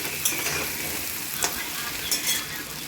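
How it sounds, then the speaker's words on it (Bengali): Potatoes sizzle steadily in hot oil while a spoon stirs and scrapes the pan a few times, close up. "আলুগুলো এবার দেখো বন্ধুরা ভালোভাবে ভাজা করে নিচ্ছি।"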